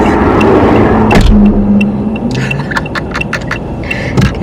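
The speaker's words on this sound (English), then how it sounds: "Let them car pass first, yeah?" A car drives past on a road, its engine rumbling close and loud before fading, with scattered clicks and bumps nearby.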